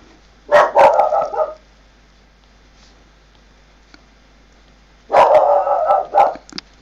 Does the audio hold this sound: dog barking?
yes